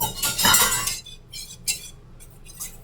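Utensil stirring a whisked egg yolk into chocolate cream filling for a peanut butter chocolate cream pie, a loud scraping swirl followed by several quick, close clinks against the pot.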